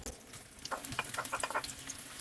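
Sausage and minced garlic stir-frying in a spoonful of cooking oil over medium heat, a soft, steady sizzle with scattered crackles and pops that grow busier midway, heard close with no talk.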